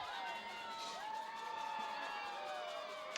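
A crowd yells and cheers continuously in the stands at a high school football game, Port Huron versus Madison Heights, with shrill voices and whoops rising and falling at a distance under an announcer talking.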